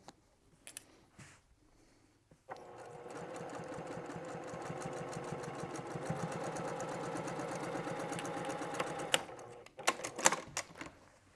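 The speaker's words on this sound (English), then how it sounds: "I'm just stitching, my eyes watching that gold thread along the outside of my presser foot." A sewing machine runs a steady line of top stitching with gold thread, a close rapid mechanical chatter lasting several seconds, framed by quieter clicks and fabric handling before and after.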